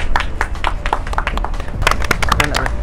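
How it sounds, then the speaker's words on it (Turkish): A small group close by claps with sharp, uneven hand claps that grow denser toward the end, heard alongside some talking. "Alkış alalım Hamdullah'a."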